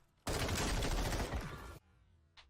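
Dense burst of rapid automatic gunfire in Warzone 3, loud and continuous for about a second and a half, then cutting off abruptly into near silence with a faint click afterward.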